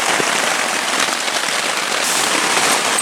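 Steady, dense patter of rain drumming on a taut tent surface close by while camping, a continuous hiss of drops with no voices.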